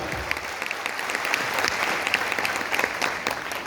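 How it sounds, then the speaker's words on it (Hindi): Loud applause from an audience cheering bronze directors at a business gathering in Jaipur, steady clapping that carries through the whole stretch with no talk over it. "सब ब्रॉन्ज डायरेक्टर्स के लिए जोरदार तालियां"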